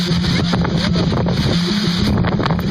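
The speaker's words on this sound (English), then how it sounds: "It's getting windy." Strong wind roars steadily against the microphone, a constant rushing gust with deep rumbling buffets and no voices.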